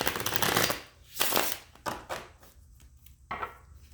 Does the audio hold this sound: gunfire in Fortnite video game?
no